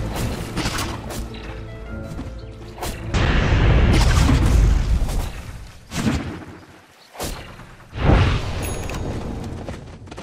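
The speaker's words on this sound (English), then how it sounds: "Radiant's top tower is under attack." Booming impacts and thuds of a Dota 2 tower under attack in an ESL One professional match between IG and Alliance, a dense run of heavy hits with loud bursts around the middle and near the end.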